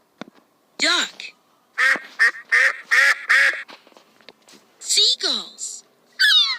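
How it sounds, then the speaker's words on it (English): A cartoon duck quacks in a string of loud, close, nasal calls, with several quick quacks clustered in the middle and more at the end, separated by short silences. "Duck."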